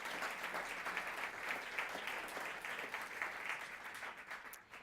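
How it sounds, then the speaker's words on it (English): Sustained audience applause at an awards ceremony for a world championship competition, dense steady clapping from a large crowd that stays loud throughout and tapers slightly at the end. "Let's give them a round of applause."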